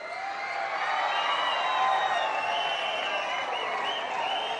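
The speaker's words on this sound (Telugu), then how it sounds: "గట్టిగా చప్పట్లు కొట్టి మీరు కూడా స్వాగతం పలకండి." A large crowd at an outdoor public meeting in Kuppam claps steadily and loudly throughout, with scattered cheers and whoops rising from the dense, continuous applause.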